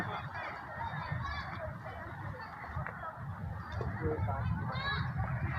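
Many ducks honk and call together continuously on the Godavari River, a busy flock nearby with a steady noisy background and some voices.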